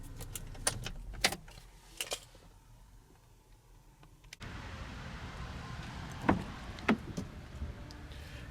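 A 2016 GMC Acadia shuts down, with a few short jangles and clicks of keys, then a faint cabin hush and more soft key rattles nearby, with no one speaking.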